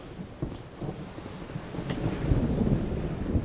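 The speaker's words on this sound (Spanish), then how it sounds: "Se viene la tormenta." A thunderstorm in Mass Effect Legendary Edition rumbles with low rolling thunder and gusting wind, building steadily in loudness with a few sharper cracks along the way.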